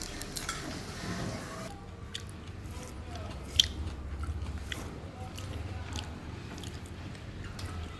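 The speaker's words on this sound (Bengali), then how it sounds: "তো এখন খাচ্ছি বেগুনের চাক ভাজি" Someone bites and chews fried eggplant slices served with a chili and onion mash, close, soft and wet mouth sounds repeating faintly over several seconds.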